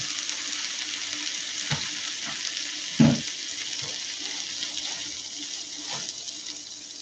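Pulled jackfruit sizzles steadily in a hot pan, with occasional clinks and scrapes as it is stirred with forks.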